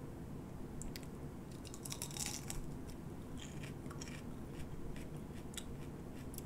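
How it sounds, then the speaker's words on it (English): Faint crisp crunches as teeth bite into a firm, juicy Mattepeno x Purple Flash F2 pepper, a few close crackling bites over a quiet, hissy background. "So I guess I'll be eating this, or biting into it."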